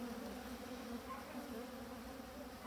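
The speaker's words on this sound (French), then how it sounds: "Un faux-bourdon qui est en train de sortir" A drone honeybee crawls out of its brood cell inside an open hive, a steady low buzz of many bees droning close and unbroken throughout.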